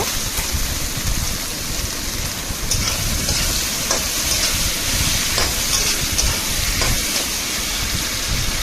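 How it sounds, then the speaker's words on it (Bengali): Potatoes sauté with spices in a pan for a small-fish chorchori, making a loud, continuous hissing sizzle that stays close and even throughout. "দেখুন আলুটা আমার হালকা কষানো হয়ে গিয়েছে"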